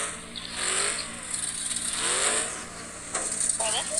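Video game off-road truck mud bogging in low gear, engine revving in rising and falling swells with whining pitch sweeps, over a steady hiss, with people talking over it.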